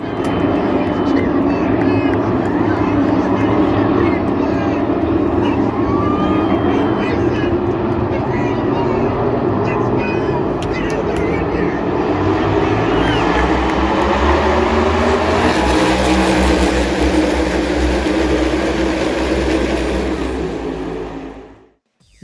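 NASCAR Cup Series race cars roaring together at the green-flag start of a 400-mile race, a loud continuous engine roar filling the whole clip before cutting off abruptly at the end.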